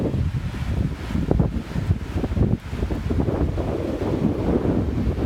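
Waves wash in on a beach at Whitsands Bay as the tide comes in, a churning surf roar heavily buffeted by gusting wind across the microphone.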